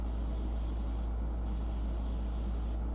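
Steady airbrush hiss of paint spraying onto paper, continuous and close, with no voices.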